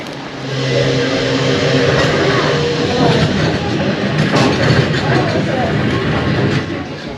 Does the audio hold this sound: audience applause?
no